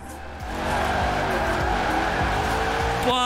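In Forza Horizon 4 with the Hot Wheels add-on, a small car on oversized 25-inch wheels drifts, its tires squealing steadily over a revving engine for several seconds, loud and close, ending with a brief higher-pitched shift.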